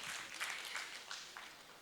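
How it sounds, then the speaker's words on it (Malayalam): Audience applause at an Onam celebration, a steady wash of clapping sustained throughout at moderate level with no voices over it. "ഇവരെ കൈയടിക്കാൻ പറയാതെ തന്നെ കൈയടിച്ചോ"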